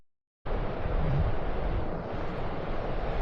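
Broad, steady rushing of the Malheur River at high water level, starting abruptly after a short silence and continuing loud and uniform, mixed with some wind buffeting on the microphone.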